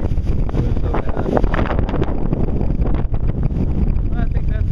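Strong gusty wind roars outdoors the day after a windstorm, buffeting the microphone with steady low rumble and rushing noise throughout, while a voice talks underneath.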